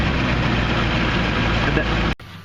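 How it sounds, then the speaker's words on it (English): A Land Rover engine idles with a loud, steady, close rumble that cuts off abruptly just before the end. "go start the engine"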